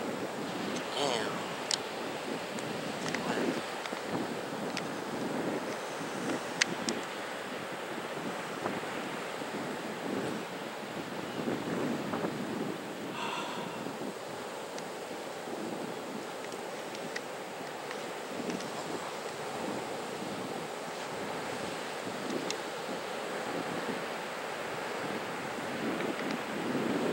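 Steady ocean surf and gusting wind at a beach fill the whole stretch, a constant broad wash with wind buffeting the microphone and a few faint sharp knocks.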